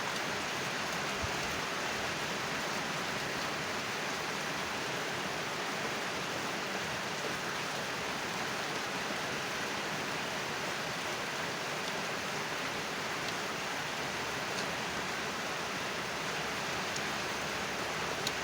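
Steady rain falling outdoors, a constant dense hiss of drops that holds at an even level throughout, with no talk.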